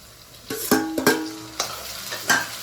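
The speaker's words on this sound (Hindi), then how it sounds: "तो अब मैं इसमें डाल दे रही हूँ टमाटर।" Chopped tomatoes drop into a pan of dark brown fried onions, setting off a few sharp sizzling bursts and stirring clatters, close and fairly loud, each flaring and fading within a couple of seconds.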